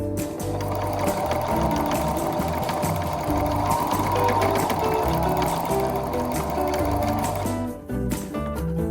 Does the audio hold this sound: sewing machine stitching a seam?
yes